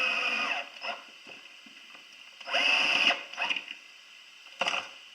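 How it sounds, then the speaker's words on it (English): A drill drives pocket screws into a plywood cabinet door for a chop saw cabinet, giving a close, whining whir in several short bursts separated by quiet pauses and light handling clicks. "All you do is put in the pocket screws"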